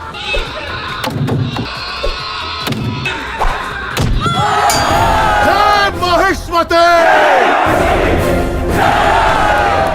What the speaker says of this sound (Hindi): अब 10 घंटे के लिए मैं आदमी के चीखने की आवाज सुनाऊंगा।